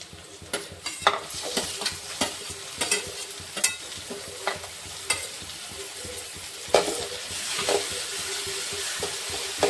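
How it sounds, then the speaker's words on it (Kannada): Chopped onions fry in hot oil in a pan while a utensil stirs them, giving a steady close sizzle punctuated by scraping clicks. "ಈರುಳ್ಳಿ ಒಂದು ಸ್ವಲ್ಪ ಫ್ರೈ ಆಗಲಿ ಎಣ್ಣೆಗ ಫ್ರೈ ಆಗೋಣ"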